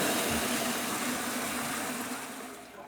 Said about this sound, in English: That's the sound of all the water in the house and the plumbing loading into this tank.